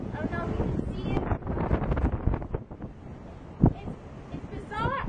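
Strong gusting wind of Hurricane Sandy buffeting the microphone outdoors, a loud continuous roar with brief bursts and some faint background voice.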